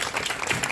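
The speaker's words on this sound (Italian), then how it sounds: "Facciamo un applauso." An outdoor evening audience at a folk dance and Pulcinella show at Villa Fiorentino claps, a brief, lively patter of hands.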